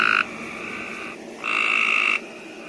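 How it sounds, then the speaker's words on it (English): A Pope's gray tree frog calls on a rainy night, giving two loud, buzzy trills close by, separated by a short pause. "Oh, that was that one calling too. Pope's gray tree frogs."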